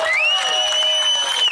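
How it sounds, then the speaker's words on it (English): A crowd cheers with a sustained, shrill whoop rising above the general roar as police arrive after Rep. Lee Zeldin is attacked on stage at an event in New York; the noise is loud and continuous. "The crowd cheering as police arrive on the scene and handcuff Jacobonis"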